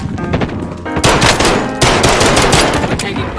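Gunfire in the video game Call of Duty Warzone, heard in a scrapyard area: rapid, loud automatic bursts that keep going almost without pause, close and harsh, with a brief lull before a heavier stretch of firing.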